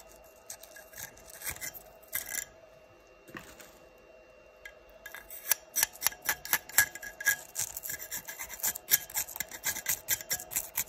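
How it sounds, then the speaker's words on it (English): Deposits are scraped from inside a burn chamber with a pick after under 12 hours of use, giving dry rasping and scratching strokes, sparse at first, then a quicker, denser run of close scrapes with no talk. "I scraped out inside of the burn chamber, and this is what was in there."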